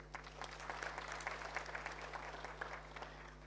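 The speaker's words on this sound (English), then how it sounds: "Give them a round of applause." Applause at an African Union private sector forum for the organizing team, a fairly faint, steady patter of many hands clapping with a constant electrical hum beneath it, no voices over it.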